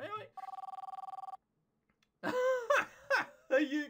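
Mobile phone ringing with a fast, steady electronic trill for about a second, then silence, followed by people talking and laughing.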